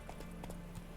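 Hooves of Roach, a horse in the video game Witcher 3, clip-clop in a steady, close rhythm of several hoof strikes over a constant low ambient bed, with no talking.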